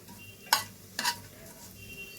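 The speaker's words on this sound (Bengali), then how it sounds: "এবারে আমি এটাকে একটু নাড়াচাড়া করে নেব তেলের মধ্যে" Bay leaf stirred in a small amount of hot oil in a pan, giving two short scraping stir strokes over a faint, steady background sizzle, close and moderately quiet with no talking.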